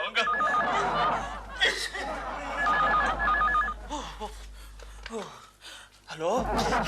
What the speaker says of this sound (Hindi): घंटी टेलीफोन ने बजाई है